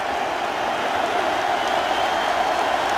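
Dense roar of a stadium crowd at an NFL game between the Ravens and Falcons, a continuous loud wash of cheering without distinct voices.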